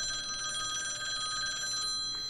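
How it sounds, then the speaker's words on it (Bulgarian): A telephone rings in a steady electronic trill with bright sustained tones, fairly loud and continuous with no talk over it, during a session of custom maps in the game Counter-Strike: Global Offensive. "Някакъв телефон звъни."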